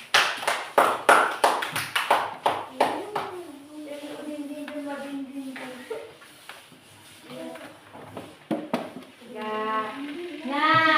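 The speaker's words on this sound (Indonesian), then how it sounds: "Kita tepuk tangan." Classroom students clap in a quick, loud burst of applause for a few seconds, after which a voice talks over softer background chatter.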